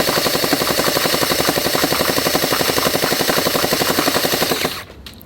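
A Lehiu HK416 V2 gel blaster toy gun fires a long, rapid, evenly spaced burst of shots, loud and close, stopping abruptly near the end with a brief mechanical rattle.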